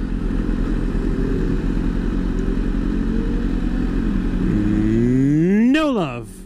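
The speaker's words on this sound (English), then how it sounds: "That's a motorcycle." A motorcycle on the road approaches against steady wind and engine noise, then sweeps past close by with a sharp rise and fall in pitch before fading.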